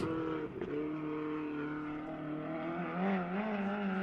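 A USAC midget race car laps the Belleville track with a steady, loud engine drone close by, its pitch wavering and rising briefly near the end as it accelerates.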